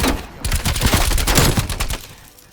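Hauer 77 shotgun blasts ring out in Call of Duty: Cold War multiplayer, a rapid, loud cluster of close shots with crackling tails that fades out toward the end.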